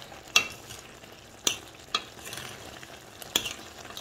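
Beef kidneys sautéing in about a tablespoon of oil, with a soft, steady sizzle broken by four sharp clinks of a utensil against the pan at uneven intervals, close and quiet, without speech.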